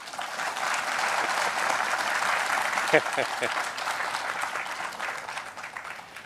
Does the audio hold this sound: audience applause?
yes